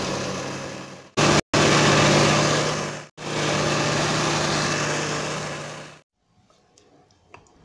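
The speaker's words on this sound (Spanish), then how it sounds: "Y vamos a licuar." A kitchen blender whirs loudly while blending lucuma with sugar and water, cutting out briefly twice before a long steady run that stops abruptly, followed by faint clatter.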